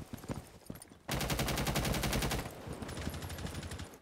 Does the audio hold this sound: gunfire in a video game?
yes